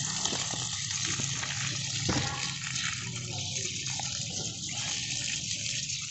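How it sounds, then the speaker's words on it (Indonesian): Water gushes steadily onto a Mamey sapote seedling to dissolve pillow-type fertilizer, a continuous, fairly close splashing flow with small irregular spatters. "Oke, kita siram kukunya biar cepat larut."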